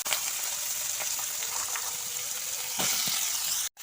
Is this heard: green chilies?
yes